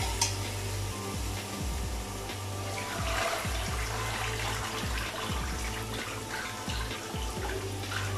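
Chicken-boiling water pours and splashes steadily into a pot of murgh chanay, a continuous gurgling rush lasting the whole time, with faint clatter underneath.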